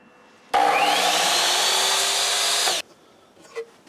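A drill bores thread holes into a wooden box in one steady, loud, whining run of about two seconds that starts abruptly and then cuts off, followed by faint handling noise.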